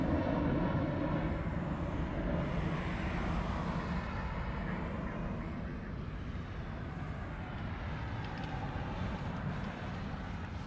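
Hawaiian airliner departing Honolulu airport for Hilo, a steady jet engine roar that is loud at first and slowly fades as it pulls away, no voices.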